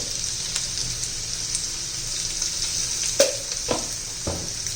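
Leafy greens for a radish vegetable dish with green chili and salt fry in hot oil, a constant close sizzle broken by a few sharp stirring knocks toward the end.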